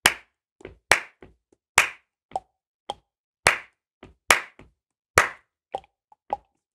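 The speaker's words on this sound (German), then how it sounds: "wir klatschen den Text gemeinsam" A small group claps a text rhythm together in a music theory lesson, sharp claps in an uneven pattern of dotted and even beats, about a dozen hits over several seconds with silence between them.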